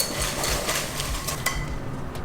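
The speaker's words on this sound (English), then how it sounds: "So I'm going to get a cover for this and then just shake as hard as I can." Popcorn is shaken hard in a bowl sealed with cling film, giving brisk rattling and rustling bursts, close and moderately loud, in an uneven rhythm.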